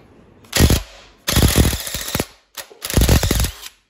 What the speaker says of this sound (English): I'm gonna try to use my impact gun.